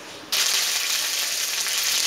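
Curry leaves drop into hot oil with mustard seeds and urad dal, tempering for a dried-fish kuzhambu: after a quiet moment a sudden loud burst of crackling sizzle erupts and continues close and steady.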